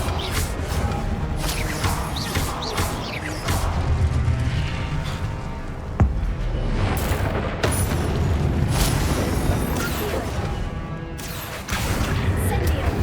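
Repeated booming spell blasts from Confringo in the Hogwarts Legacy video game, several heavy bursts landing in a loud, continuous stream of combat noise with a sharp impact near the middle.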